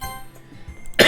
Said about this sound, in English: Sorry, I have a really bad cough.